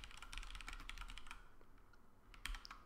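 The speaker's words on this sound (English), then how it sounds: "Come back here and type something else." Typing on a computer keyboard comes through as a quick, irregular patter of soft key clicks, quiet and fairly close, with a brief pause before a few final taps and no voice.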